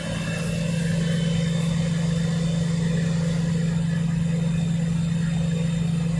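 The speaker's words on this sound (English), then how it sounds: "It's the trucks, obviously" Trucks of a convoy idle together during a protest in Ottawa, a steady low engine drone with a constant hum and no breaks, fairly close and unbroken.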